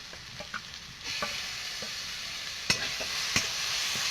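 Spice paste of onion, garlic, tomato, ginger, coriander, cumin and dried chilli frying in a pan, a steady sizzle rising after a second, with scattered sharp spoon scrapes and knocks as it is stirred.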